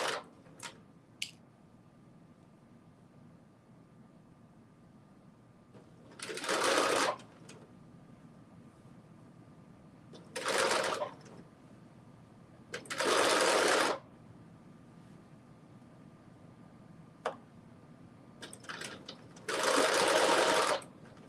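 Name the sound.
sewing machine sewing a basting stitch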